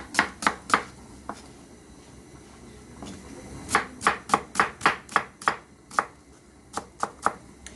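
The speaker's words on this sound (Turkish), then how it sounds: "Üç tanesini Yasemin Hanım doğrayacakmış." Onions are chopped with a knife on a board while preparing dry bean stew and rice for a hundred people: quick clusters of sharp, close knocks, a pause, then a longer run of rhythmic cuts.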